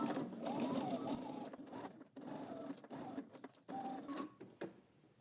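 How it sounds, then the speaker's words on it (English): A sewing machine runs in steady bursts as it stitches a tiered dress seam at a 5/8-inch allowance, with short back-stitch reversals at the start and end; the motor whirs close and continuous, dipping briefly between runs. "now we're going to stitch across using 5/8 of an inch seam allowance"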